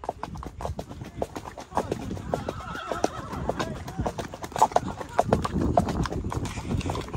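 A horse on a group trail ride clip-clops in a quick rhythm at close range, with neighing partway through and people talking over the hoofbeats.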